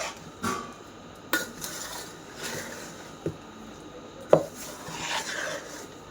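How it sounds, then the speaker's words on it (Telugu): Amla pickle stirred in a bowl with a spoon, giving quiet scraping and a few sharp clicks of utensil against the bowl, close but soft and sparse. "ఇప్పుడు నీట్గా కలిపిస్తున్నాను అన్నమాట పచ్చడిని"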